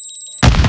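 A Semtex grenade blast in the MW2 DMZ video game arrives as a sudden loud boom after a brief electronic beeping tone, short and close.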